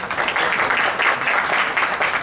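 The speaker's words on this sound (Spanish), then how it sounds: "por la que le pido un aplauso" A brief burst of audience applause rings out at a polo event press presentation in Mexico City. The clapping is dense, fairly loud and continuous for its short length.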